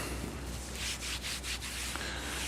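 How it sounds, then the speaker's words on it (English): Sandpaper rubbing across a matted Alcantara panel in a Corvette interior, a steady soft abrasive hiss with several rhythmic back-and-forth strokes, close and continuous. "we get rid of all the fibers that are kind of matted up by sanding it"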